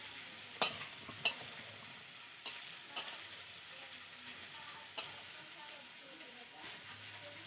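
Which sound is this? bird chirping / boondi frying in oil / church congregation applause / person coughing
boondi frying in oil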